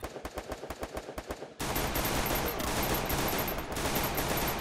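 Rapid bursts of automatic gunfire in the video game Free Fire crack in a quick rhythm, then give way to a dense, sustained barrage of shots that stays loud to the end.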